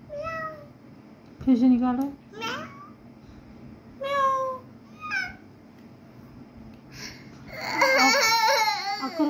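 A young child makes several high, wavering meow sounds imitating a cat, separated by pauses, with an adult speaking briefly in between.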